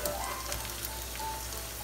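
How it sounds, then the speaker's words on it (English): Cheeseburger spring rolls fry in hot oil, giving a steady, dense bubbling sizzle close by with no pauses and no voices. "Now, the frying part happens. Look at the bubbly."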